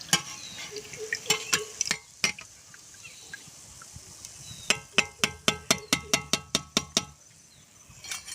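Tomato chops fry in oil with a faint sizzle while a utensil repeatedly clinks and scrapes against the pan, sparse at first and then a quick run of sharp metallic taps.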